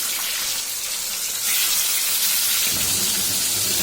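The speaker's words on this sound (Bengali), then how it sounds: "তারপরে একে একে মাছগুলো ভেজে নিচ্ছে" Turmeric-marinated fish frying in a wok gives off a loud, dense, continuous crackling sizzle like heavy rain, swelling fuller partway through and holding steady to the end, with no voices.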